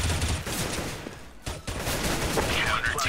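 Rapid gunfire from a Counter-Strike: Global Offensive match, with dense bursts of shots and game noise running through the clip while a voice comments.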